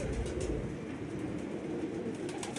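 A pigeon coos with low, throaty murmurs, steady and close, over faint background hum and with no talking.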